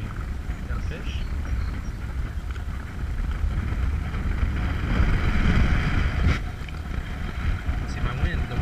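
Wind gusting across open water while fishing from a boat, a steady low rushing roar that swells mid-clip, with someone talking over it.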